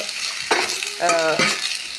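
Sliced onion frying in hot oil left over from frying chicken, a steady close sizzle with a few bursts of stirring and a brief scrape partway through.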